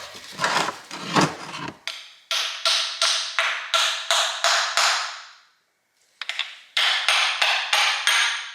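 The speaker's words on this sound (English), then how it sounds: "If you just whack on the bolt after it's threaded in a little bit, we got it to pop off." A hammer whacks a bolt threaded into a turbocharger part to pop it loose, several sharp metallic strikes in a steady rhythm, close and loud, with a short pause between two series of blows.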